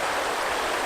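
Rapids on a river in Glen Nevis rush in a steady, dense wash of broadband water noise, close and continuous with no breaks or voices.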